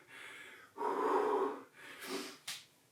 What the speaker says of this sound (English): Now I'm starting to gasp.